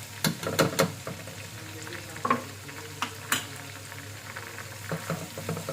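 A spoon scrapes and clinks through chili and ginger garlic paste sizzling in a hot frying pan, several quick clacks at the start and then intermittent stirring over a steady fry, close and alone.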